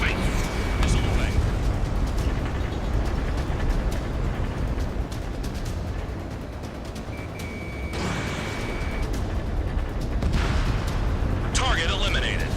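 Missile launches and explosions rumble in the combat flight game Ace Combat 7 during a pipeline destruction mission, with a continuous roar of jet engine and rolling blasts under radio chatter.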